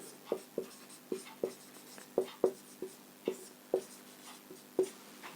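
A pen writes on paper while working a maths problem: a string of about fifteen short, sharp scratching strokes and taps at an uneven rhythm, close and clear over quiet room tone.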